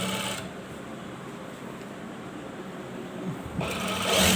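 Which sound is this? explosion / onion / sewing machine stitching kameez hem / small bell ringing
sewing machine stitching kameez hem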